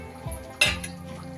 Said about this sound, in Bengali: গ্রেভিটা খুব ভালো করে ফুটে গেলে এবার ভেজে রাখা মাছগুলো আমি দিয়ে দিলাম।